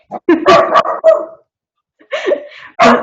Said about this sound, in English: there's the dog barking we were talking about